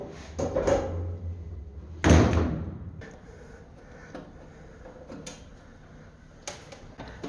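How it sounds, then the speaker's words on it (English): An elevator door driven by a VF drive door operator clunks and slides, with a loud thump early on, several lighter clicks and knocks spread across the stretch, and a low mechanical rumble underneath; no one speaks. "It's a VF drive door operator."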